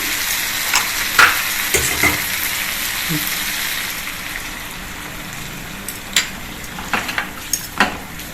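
Water splashes into an onion masala frying in a pan, setting off a steady close sizzle with scattered pops and stirring clicks.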